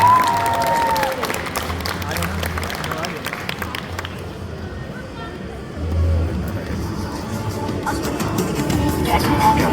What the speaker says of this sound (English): Guys, huge round of applause for Amy Jo Johnson.